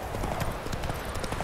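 Roach the horse trots in The Witcher 3, producing a steady, close run of clip-clop hoofbeats that fills the short stretch.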